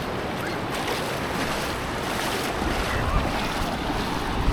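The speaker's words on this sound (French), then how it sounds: "À la Gold Coast, il y a des bonnes vagues en vrai." Ocean surf at a Gold Coast beach in Australia, a constant broad roar of breaking waves mixed with wind buffeting the microphone, swelling slightly toward the end.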